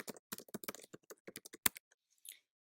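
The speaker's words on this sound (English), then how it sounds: "So you can type notes to your students" Close, crisp keystrokes on a computer keyboard tap out an irregular run of clicks, with a louder key strike near the middle before the typing trails off into quiet.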